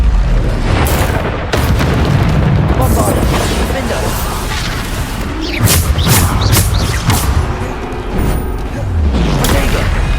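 Bombarda explosion spells in Hogwarts Legacy combat, loud booming blasts mixed with dense battle noise and spell effects, with voices calling out over the action.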